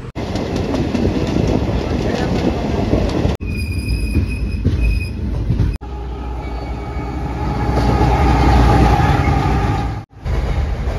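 The Tirupathi Express, running from Tirupati toward Kakinada Port in India, rolls on with a loud continuous rumble and rattle, wheel squeal rising at times and a brief high whine partway through.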